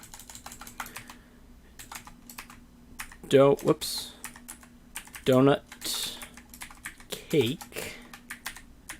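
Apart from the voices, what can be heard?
typing on a computer keyboard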